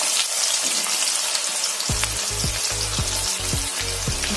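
Chopped onion drops into hot oil already toasting fenugreek seeds for a sweet-sour pumpkin curry, and a steady hiss turns into a loud, crackling sizzle after a short quieter start, with occasional scraping in the pan and no talking.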